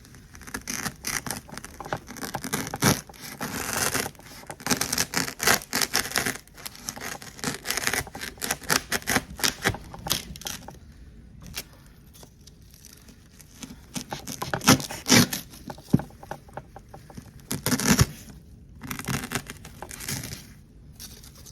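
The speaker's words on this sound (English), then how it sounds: "So that means we're gonna have to cut off some of this foam." Floral foam is cut and broken up for a spring flower arrangement, producing irregular crunchy scraping and crumbling at close range in uneven bursts with short quiet gaps, with no talking.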